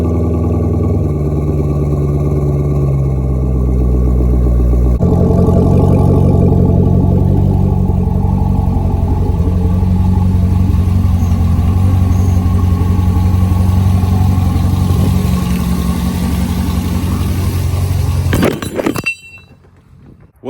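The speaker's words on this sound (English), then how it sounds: "Cold start." A sports car engine cold-starting and then idling, a loud close rumble that jumps in level after the start and holds a steady, slightly uneven idle before cutting off near the end.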